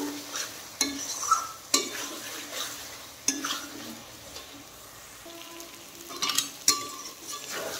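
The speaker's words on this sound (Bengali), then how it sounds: "তো এখন সেই ভেজে রাখা চিংড়ি মাছগুলো আমি মশলার সাথে দিয়ে দিলাম, দিয়ে আরেকটু কষিয়ে নেব।" Fried prawns are stirred into a sizzling spice masala in a pan, with a steady close frying hiss broken by several sharp scraping and clanking strokes of the spatula.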